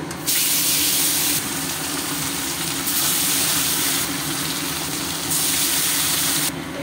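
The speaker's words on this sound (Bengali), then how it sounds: "कड़ा गरम हये गेछे, आमि एकटा एकटा करे माछ दिये देब" Parshe fish rubbed with salt and turmeric are laid one by one into a hot kadai of oil, giving close, loud bursts of hissing sizzle that swell and ease in waves; no talking.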